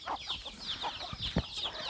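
Farm chickens, laying hens with newly hatched chicks, give soft repeated clucks and short calls in quick bursts, fairly faint and close by, with no talking.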